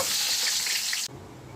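Fish curry simmering in a pan, home-cooked Bengali fare, gives a bright, steady sizzle and bubbling hiss that holds close and even, then cuts off abruptly to a quieter low murmur.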